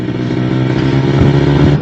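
Kawasaki Ninja RR sport motorcycle engine running close and loud, a steady buzzy two-stroke drone that rises slightly in pitch as it revs.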